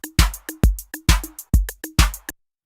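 A Logic Pro drum beat loop playing, punchy kick and snare hits in a steady repeating pattern with short decays, loud and clean, ending abruptly with no talking.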